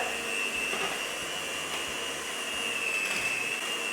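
An electric hand beater whirs steadily while mixing cake batter, a close, even motor whine with a faint high tone and light rattling, no talking.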